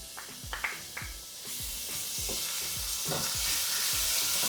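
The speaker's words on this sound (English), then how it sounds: "I'm going to add the ginger and garlic into this and fry it until it's nice and golden brown in color" Ginger and garlic fry in a pan, a rising steady sizzle with a series of soft scraping, clicking stirs repeating about every half second; no one speaks.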